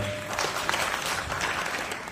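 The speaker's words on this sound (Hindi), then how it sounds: "एक आस्था के लिए ताली हो जाए।" Audience applause at a stage show for a film heroine, a steady wash of clapping lasting a couple of seconds at moderate level, with faint crowd noise beneath.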